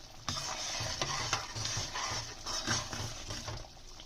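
Spices being stirred into a mixed vegetable curry in a pan, a soft continuous scraping and gentle sizzle, close and fairly quiet, with no voices.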